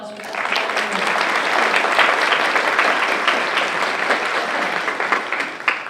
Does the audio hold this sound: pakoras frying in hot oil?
no